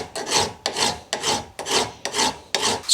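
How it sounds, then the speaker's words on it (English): A hand file rasps across a weld on a custom idle speed control valve fitting, six rhythmic close strokes about half a second apart, each a harsh scraping rush. "I guess I'm going to do that the same way with the file"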